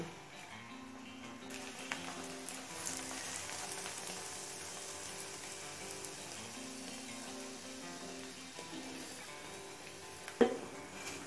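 An aloo paratha fries in soybean oil on a pan, giving a faint, continuous sizzle under a soft background hum, with one brief knock near the end.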